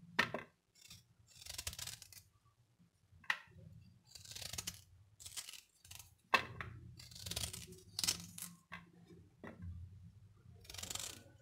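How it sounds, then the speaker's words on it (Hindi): A knife cuts fresh ginger into small pieces for a lemon and chili pickle. Quiet, close, irregular chopping and scraping strokes with short pauses between them, and no talking. "अब इस अदरक के हम छोटे छोटे पीस काट लेंगे।"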